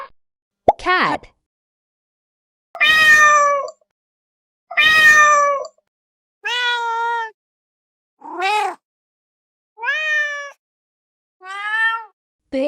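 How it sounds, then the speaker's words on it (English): Cat meowing repeatedly, a series of clear, separate meows and a short sharp one, each loud and close against silence. "Cat."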